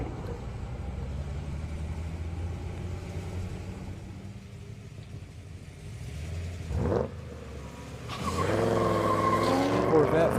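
A Corvette Z06 and a Mustang race along an Indianapolis airstrip, their engines roaring steadily at a distance before a louder, rising pass swells near the end, with a commentator talking over it.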